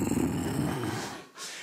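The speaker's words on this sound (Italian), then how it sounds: "questo è il verso dell'orso marsicano" Low, rough growling rumble, jokingly passed off as the call of a Marsican bear, lasting just over a second up close with a brief dip before a breathy tail.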